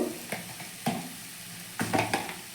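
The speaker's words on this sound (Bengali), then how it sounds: "পেঁয়াজটা আমার ভাজা ভাজা হয়ে গেছে" Fried onions with a spoonful of cumin powder sizzle softly in a pan. Several distinct stirring and scraping strokes come at irregular intervals over the quiet hiss, with no talking.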